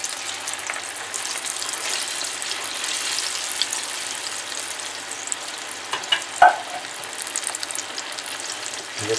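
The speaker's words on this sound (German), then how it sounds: "Ich gebe hier die Süßkartoffelpommes wieder rein." Sweet potato fries go into hot oil, giving a continuous close crackling sizzle, with a brief metallic clink or scrape partway through.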